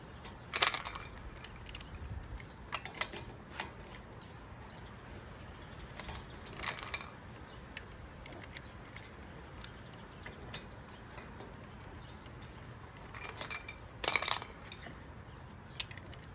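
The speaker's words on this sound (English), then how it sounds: "I have this extension. I put a shallow socket on it, and I get all the lug nuts just started with this first" Lug nuts on an '02 Tacoma being threaded on by hand with an extension and shallow socket: faint, sparse metallic clicks and rattles over quiet background, with small clustered bursts.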